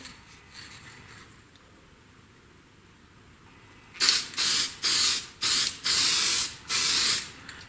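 Copper-based gasket sealant is sprayed from an aerosol can onto a V8 intake gasket: after a quiet stretch, six sharp, loud, close hissing bursts follow one another with brief pauses.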